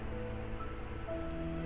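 Steady rain pours in Project Zomboid, an even, unbroken hiss of falling water with faint sustained tones humming underneath.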